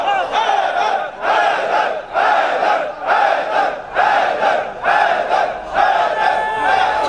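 Large audience at a religious speech gathering in Ilford, London, roars in repeated rhythmic bursts of chanting and cheering, about seven loud surges in quick succession with brief dips between them.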